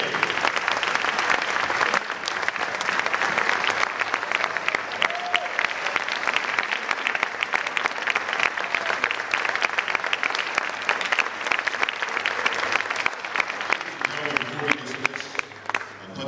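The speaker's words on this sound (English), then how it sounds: "let's have another round of applause for the inaugural class of the Hudson High School Athletic" Sustained, dense applause from a large audience at a high school athletic Hall of Fame ceremony honoring the inaugural class of inductees, steady and loud for the full stretch, with some crowd voices mixed in before tapering at the end.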